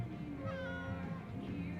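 Valkyrie the cat meowing in the video game Life is Strange: True Colors, a drawn-out tonal meow sounding close and clear over a soft steady game background, with no talking.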